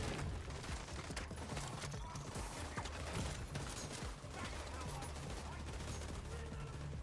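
Video game gunfire rattles in dense bursts throughout, a steady wash of shots with mechanical clatter close up and no pauses.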